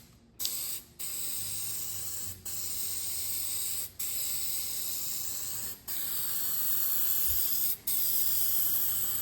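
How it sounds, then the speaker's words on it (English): Meguiar's headlight coating sprayed from an aerosol can onto a 3rd-generation Dodge Ram's headlight in five or six long, steady hissing bursts separated by brief pauses, close and loud, with no talking. "Here we go with the headlight coating from Meguiar's."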